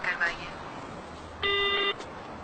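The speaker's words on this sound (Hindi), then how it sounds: "बराए मेहरबानी बीप के बाद अपना मैसेज रिकॉर्ड करवाइए।" A single steady electronic voicemail beep, about half a second long, sounds right after a recorded phone operator's message announcing that the dialed number is switched off; the beep stands out clearly against a constant background hiss.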